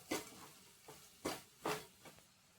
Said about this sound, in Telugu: మూత తీసి బాగా కలుపుకోవాలి.